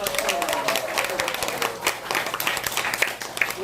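Applause from a group at a laughter-therapy lecture in a continuing-education course, a dense spread of clapping lasting a few seconds with a bit of crowd noise mixed in.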